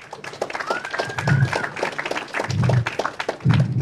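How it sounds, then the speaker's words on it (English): An audience at a blockchain tech talk claps for the event sponsor in a scattered round of applause, mixed with voices and room noise. "So let's give them a round of applause."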